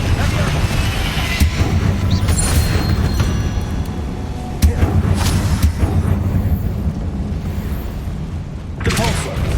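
Dense, continuous rumbling booms from a Confringo spell explosion in the Hogwarts Legacy video game, layered with crackling bursts and a sharp blast near the middle, loud and close throughout.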